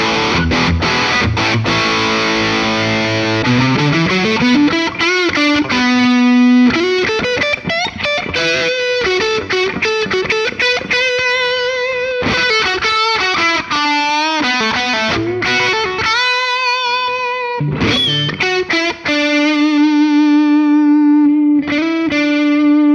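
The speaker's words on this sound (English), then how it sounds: "an absolutely gorgeous 1989 Gibson Les Paul Classic" A 1989 Gibson Les Paul Classic electric guitar, the first year of the model, plays through heavy distortion with a touch of chorus: dense chugging chords, sliding bends and sustained singing notes, loud and continuous with no talking.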